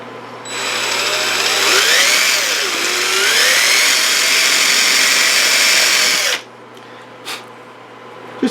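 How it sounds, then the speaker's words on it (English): A power drill whirs loudly for about six seconds, its pitch sagging as the bit bores into wood, then it cuts off, followed by a few light knocks. "we're going to drill that hole."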